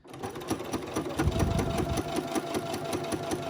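Sewing machine stitching with a 4.0 stitch length around the edge of a Bitzy Bob bag through layers of fabric, a close, steady rapid mechanical chatter running continuously.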